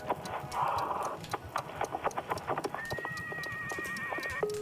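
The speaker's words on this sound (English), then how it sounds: "That's just like neighing" Horse sounds in the video game Wanderstop: rhythmic clip-clop hoofbeats with a brief whinny-like call, moderately close, over a layer of ambient game sound and tonal chimes.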